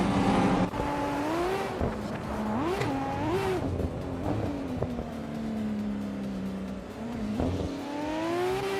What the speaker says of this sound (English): Maya is currently in 8th place with a 1995 Nissan Skyline GTR 33L